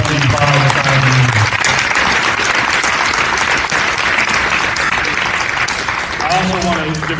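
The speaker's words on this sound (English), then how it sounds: "Can we please give one more big round of applause to our 2025 signing?" Loud, sustained applause from an audience at a fall signing day celebrating student-athletes at SPIRE Academy, with whoops and raised voices rising over the dense clapping at the start and end.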